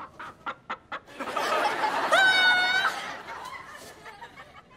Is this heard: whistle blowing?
no